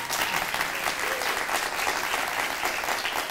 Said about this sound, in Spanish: gran aplauso, amiga mía